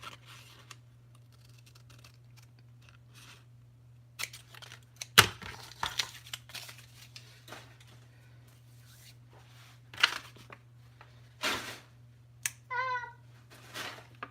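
Scissors cutting paper for a pocket in a mini Christmas folio craft journal, a few short crisp snips and paper rustles, separated by quiet pauses over a constant low hum.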